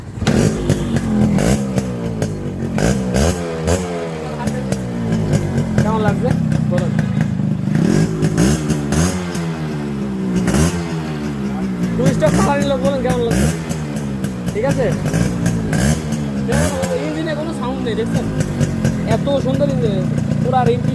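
Yamaha RX 100 two-stroke motorcycle engine running in fresh condition, loud and steady with repeated throttle swells and revs across the whole stretch, with a voice talking over it.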